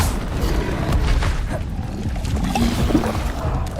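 Incendio fire spell cast in the Hogwarts Legacy video game, heard as a continuous low rumbling whoosh with soft thuds and a brief crackle, moderately loud and steady, with no talk over it.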